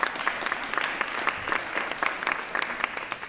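A conference audience at a state tourism event applauds steadily, with scattered sharp claps standing out from a continuous wash of clapping, fairly close and moderately loud.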